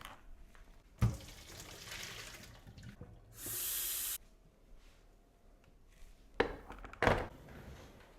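Water runs from a kitchen tap into a container in a brief, hissing burst, set among quiet clatter and a few sharp knocks of cups being handled nearby.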